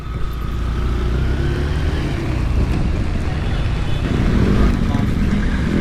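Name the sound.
motorcycle riding through floodwater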